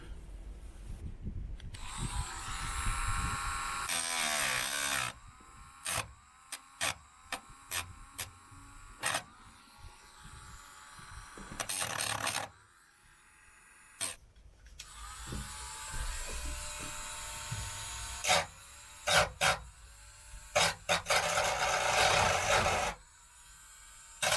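Small handheld 10-volt cordless drill boring a 14mm hole in a campervan body, heard as several separate whining bursts of drilling broken by pauses and clicks, close and fairly quiet.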